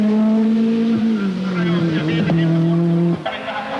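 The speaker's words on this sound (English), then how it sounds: "Timo Salonen at the rally's only tarmac stage, the traditional 2-kilometre blast through the streets of Jyväskylä" Timo Salonen's Peugeot rally car blasts through a street tarmac stage in Jyväskylä, engine droning loud and close with strong steady harmonics, a gear change midway, then the note drops away near the end.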